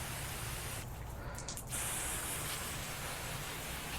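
A steady, close hiss of fine water spray drizzling onto paver sand runs throughout, briefly easing midway before resuming, with no voices.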